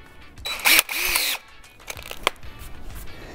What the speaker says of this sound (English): the reason I use the drill bit